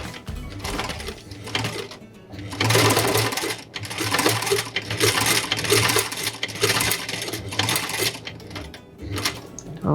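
An embroidery sewing machine runs in bursts, stitching a straight line with its needle lowered into fabric; a loud, fast mechanical whir and rattle that stops briefly and restarts, close up.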